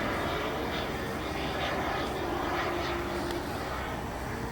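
A light aircraft with its landing gear down passes over an aerodrome during an open day, a steady engine drone that holds fairly loud and close for the whole stretch.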